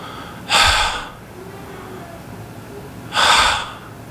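Two sharp, breathy gasps a few seconds apart, voiced like someone imitating labored, exhausted breathing, close and loud against a quiet background.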